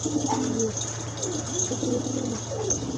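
Pigeons coo steadily at a busy pigeon market in Bangladesh, a soft layered murmur of many birds close by over constant crowd hum and a low mechanical drone.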